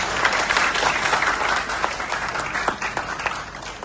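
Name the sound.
audience applause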